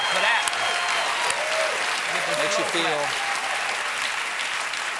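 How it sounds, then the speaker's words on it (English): A studio audience at a comedy show breaks into loud, sustained clapping and whooping, with a voice speaking briefly above the crowd noise. "Get the slow clap for that"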